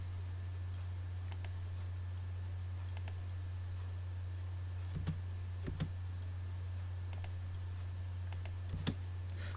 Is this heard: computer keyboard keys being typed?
yes